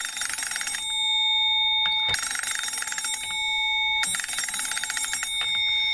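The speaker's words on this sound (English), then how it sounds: "Position 2 rings the antique telephone bell." An old mechanical telephone bell rings in three loud, rattling bursts separated by short pauses, close by.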